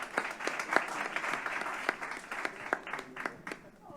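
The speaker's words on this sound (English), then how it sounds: "Round of applause, please." A competition finale audience claps for a team, a lively spread of hand claps with sharp individual strikes. The applause thins toward the end, and speech can be heard alongside it.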